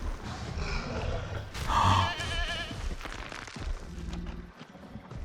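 Goat in the Jurassic World video game: a loud, wavering bleat stands out in the middle over a busy bed of game ambience and low rumbling, close and prominent for about a second.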